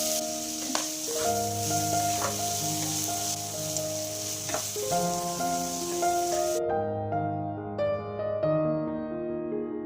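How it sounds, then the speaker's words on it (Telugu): Chopped onions and green chillies fry in hot oil with a bright, crackling sizzle under tuneful background music. The frying noise cuts off partway through, leaving only the music. "కట్ చేసి ఉంచుకున్న ఆనియన్స్, పచ్చిమిర్చి బాగా ఫ్రై చేయాలి."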